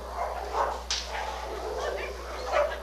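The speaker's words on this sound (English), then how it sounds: "The dogs got excited." Several dogs bark and yip excitedly in short, overlapping bursts at a moderate distance, with a faint whine mixed in over a steady low hum.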